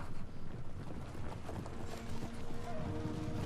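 Cavalry horses gallop in a charge during a Third Age: Total War siege battle, a dense, continuous drumming of hooves with wind-like rumble and some faint background voices.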